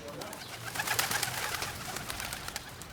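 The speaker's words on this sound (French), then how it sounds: "Quand vous avez des pigeons à côté de vous en quantité" Pigeons coo in Paris, soft repeated calls close by against a quiet urban background.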